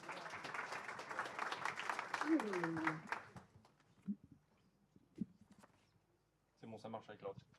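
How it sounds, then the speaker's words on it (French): Audience applause at a French industry morning conference as two guest speakers are invited on stage, a dense burst of clapping mixed with voices for about three seconds, then fading to scattered sounds and a brief return of noise. "On peut les applaudir également."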